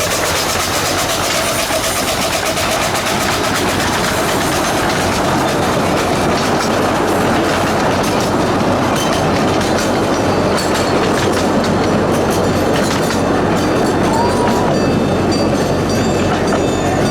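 A miniature steam train rolls past nearby at a steam museum, loud and continuous, with rumbling wheels, rhythmic clicking over the track joints and occasional metallic squeals.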